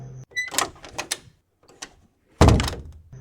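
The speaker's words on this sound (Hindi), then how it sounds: "अचानक अपने आप दरवाजा खुल गया" A door in an office cabin swings open on its own as a spooky effect: a few clicks and mechanical clunks, a pause, then a loud heavy thunk, close and without voices.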